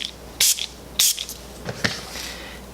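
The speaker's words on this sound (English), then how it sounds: "I'm gonna do my final spray of setting spray" A makeup setting spray mist is spritzed in three short, close hissing bursts, spaced about half a second apart, with quiet pauses between.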